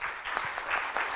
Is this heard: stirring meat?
no